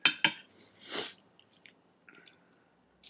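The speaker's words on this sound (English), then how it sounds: "Let me chew some more." Someone chewing food with mouth noises: a couple of sharp crunchy bites and a smacking burst near the start, then quieter scattered chews and wet clicks, close and alone without talk.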